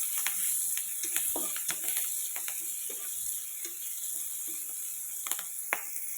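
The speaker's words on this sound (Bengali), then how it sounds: "দিয়ে দিলাম কাঁচা লঙ্কা, এগুলো ভালো করে ভেজে নেব।" Green chillies fry in hot oil, giving a soft continuous sizzle broken by scattered sharp pops and crackles, heard close with no speech.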